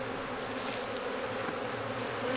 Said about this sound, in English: So bees are pretty resilient.